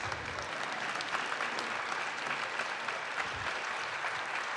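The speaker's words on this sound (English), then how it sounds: "And also give Dave a huge round of applause and all of the support staff that makes this happen every week." A room full of people at a Kansas City startup pitch event gives a steady, dense round of applause, sustained and even throughout, with no one speaking over it.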